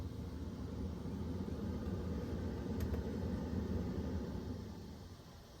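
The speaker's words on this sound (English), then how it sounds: "Hear the pump running." Electric fuel pump priming on a 2022 Ford Super Duty diesel pickup after a fuel filter change, a steady low hum and whir heard close up for several seconds, easing off toward the end.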